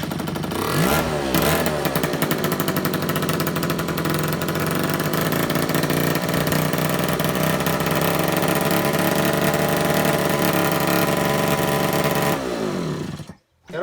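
A scooter engine idles loudly up close with a brief rev early on, running steadily and roughly before suddenly cutting out near the end.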